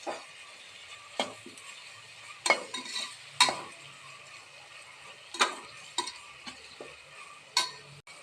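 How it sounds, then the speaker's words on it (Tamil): Spoon stirring and scraping through a pan of softening tomatoes in oil, with a handful of sharp clicks over a low background sizzle; no talking. "நம்ம நல்லா வதக்கிக்கலாம்."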